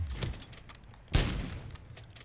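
An MCPR-300 sniper rifle fires in a video game, two sharp reports about a second apart, the second louder with a lingering echoing tail, fairly quiet overall with no voices.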